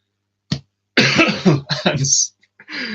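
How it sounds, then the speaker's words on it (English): A single short cough from a person recovering from an illness, followed by talking; another brief throat sound breaks in near the end. "Sorry about the cough."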